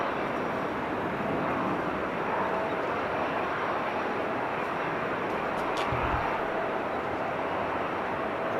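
An airplane taking off from runway 24 makes a continuous broad roar that holds steady throughout, heard from a distance, with a brief low thump partway through.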